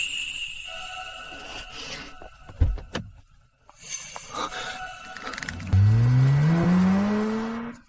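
A car's engine starts with a few thumps and clatters, then revs up loudly as it pulls away, the pitch rising steadily and holding close, with no talking.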